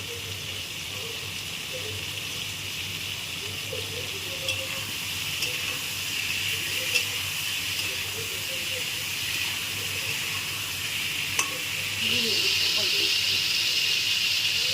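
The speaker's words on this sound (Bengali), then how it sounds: "তারপর ওর মধ্যে দিয়ে দিচ্ছে চিড়ে রাখা কাঁচা লঙ্কা" Slit green chillies sizzling in hot oil in a pan while cooking a hilsa fish curry, a steady close hiss throughout that grows louder near the end, with a few soft clinks and a faint voice.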